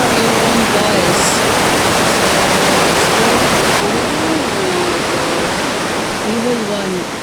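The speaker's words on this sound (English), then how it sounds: "This river is just flowing and the waves are so intense here. You cannot even hear your own voice." Intense river rapids at Fukiware Falls in Gunma, Japan, roar as a loud, steady broadband rush of churning water that fills the whole clip without pause.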